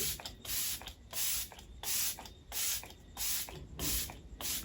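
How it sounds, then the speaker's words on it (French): Makeup setting spray misted in a series of about six short pump sprays, each a crisp close hiss of roughly half a second, evenly spaced with brief pauses, no talk. "Je vais juste appliquer mon spray."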